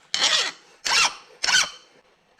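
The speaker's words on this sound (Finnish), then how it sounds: "Kyllä tää viila siihen purree, mutta aika heikosti." A hand file rasps against a hardened steel pin in three firm, close strokes, each a loud gritty burst with short pauses between, and a fourth stroke just starting at the end.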